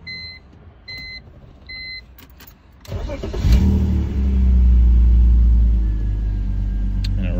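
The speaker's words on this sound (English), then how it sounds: "So that was, you know, the factory exhaust, not too impressive" A BMW E46 with its factory exhaust cranks and starts after a few faint beeps, then settles into a loud, deep, steady idle with a slight rise in revs, close by.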